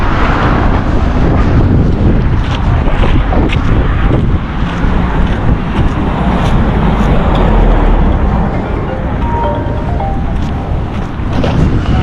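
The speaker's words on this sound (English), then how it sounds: "So with the winds, the dust is coming up." Strong wind buffets the microphone over a dusty playing ground, a continuous loud rushing roar with gusty swells throughout and no talking.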